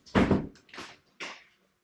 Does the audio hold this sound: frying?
no